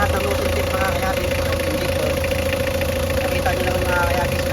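A Mitsubishi 4D56 diesel engine idling after its nozzle tips were replaced, a loud, close, steady rumble with an even mechanical chatter, running continuously under a voice.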